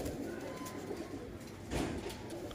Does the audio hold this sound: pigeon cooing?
yes